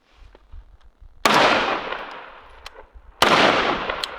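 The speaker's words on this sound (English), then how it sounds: "Just shoot the dirt." Two sharp, loud suppressed rifle shots fired into the dirt, each a sudden broadband crack with a long decaying tail, spaced about two seconds apart over faint outdoor background.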